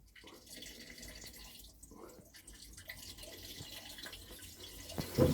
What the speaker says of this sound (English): you can see the coolant running out into the hole, then out through those plugs we've removed